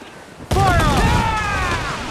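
A volley of ship cannons erupts at once in Assassin's Creed IV: Black Flag, a heavy boom that thunders and lingers as sailors yell through the roar.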